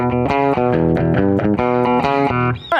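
An electric guitar, a Telecaster played through a Fender Deluxe Reverb tube amp, picks a bright, rhythmic 90s country riff, with clear repeated chord stabs, loud and close, ending in a short bend.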